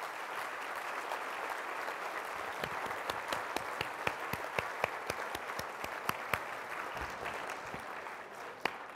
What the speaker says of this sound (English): Another round of applause, please, for Mr. John Thompson.